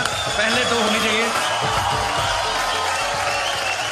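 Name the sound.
audience applause at awards show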